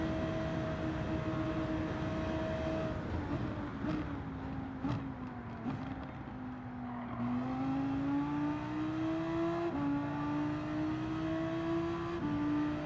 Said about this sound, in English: Good God above, this car is fast.